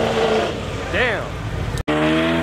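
At a car meet in Marysville, a car's tires squeal with a rising and falling pitch over a revving engine, then the sound cuts abruptly before the engine drone resumes, with people talking throughout.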